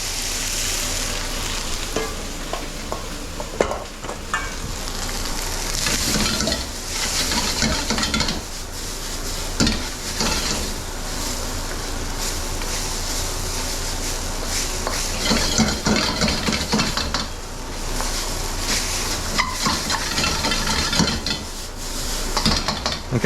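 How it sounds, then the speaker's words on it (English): Cooked rice sizzles and fries in a smoking hot pan for bacon and egg fried rice, a steady loud crackle with stirring scrapes and occasional clinks of utensils against the pan throughout. "Now the rice is going to go in."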